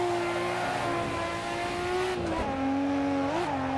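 Nissan Skyline being drifted in second gear, engine held at high revs with throttle, the tone wavering and dipping slightly as the wheels spin, loud and continuous.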